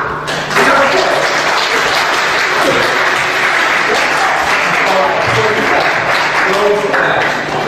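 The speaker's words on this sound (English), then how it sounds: "Can we give them a clap?" Audience clapping at a children's Christmas service, steady applause filling the room for several seconds, with voices and chatter mixed in underneath.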